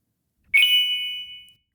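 The Pushover app plays a single bright chime for a test message on a phone, ringing out clearly and fading over about a second in a quiet room.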